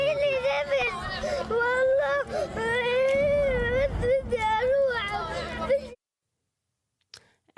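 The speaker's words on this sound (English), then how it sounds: "Here's another child crying in fear as he carries his own baby brother while fleeing a bombardment" A young child fleeing a bombardment while carrying his baby brother cries in fear, loud wavering wails and sobs up close over background commotion and other voices, then silence.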